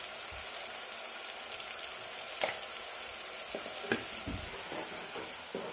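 Village goat mutton curry with coriander, ginger and salt is stirred in a pan. A continuous close sizzle carries a few scattered knocks of the spoon against the pan.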